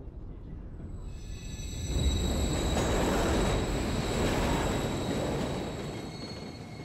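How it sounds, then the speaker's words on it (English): A train in the Call of Duty MW3 (2023) video game rumbles past, a broad roar that swells after two seconds, holds, then fades, with faint high metallic whine above it. "Another train coming."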